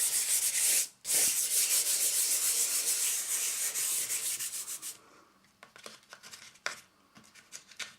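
Steady close rubbing of a drawing on paper, a dense scratchy friction that runs almost continuously, breaks off briefly near the start, then thins into scattered lighter strokes and taps.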